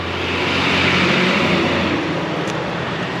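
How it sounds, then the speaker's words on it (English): A Toña beer delivery truck rolls past on a street in the beach town of Las Peñitas, Nicaragua, its engine a loud, steady rumble close by, swelling and then easing slightly as it goes. "this is the Tonya truck coming"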